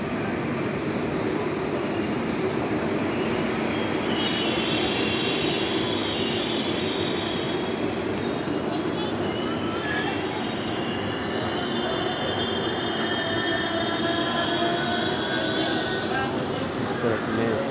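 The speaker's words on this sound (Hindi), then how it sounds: "Balrampur railway station Barabhum." A train at Barabhum (Balarampur) railway station in Purulia, heard as a continuous rumble of rolling wagons with high, drawn-out wheel squeals laid over it throughout.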